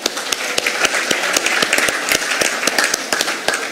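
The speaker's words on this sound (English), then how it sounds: "another good applause." An audience at a human rights awards ceremony in Kenya gives another round of applause. Distinct, crisp claps from a modest crowd arrive in an uneven patter, fairly close, with no talk over them.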